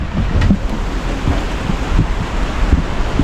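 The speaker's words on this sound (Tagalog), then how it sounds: "Lalo nang lumakas yung hangin at ulan." Loud, blustery wind roars against the microphone with a steady wash of rain and rumbling noise, no voices.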